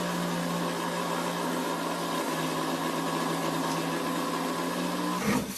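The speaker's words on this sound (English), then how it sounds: "Then start the blender, and slowly pour the liquid into the center." A blender running steadily while making cotton candy, a constant whirring motor hum that holds level for several seconds before a brief clatter near the end.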